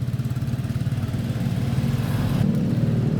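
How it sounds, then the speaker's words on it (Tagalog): A motorized tricycle on a road toward Asingan, Pangasinan, passes close by with a steady, buzzing small-engine drone that swells slightly and shifts in pitch near the end, heard alone without talk. "At meron dadaan, dumaang tricycle."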